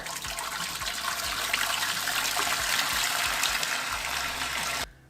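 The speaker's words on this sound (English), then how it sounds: "Set your pot on a medium high and add your water." Water pouring steadily into a cooking pot for a king crab seafood boil, a continuous close splashing gush lasting about five seconds before cutting off, with no talk.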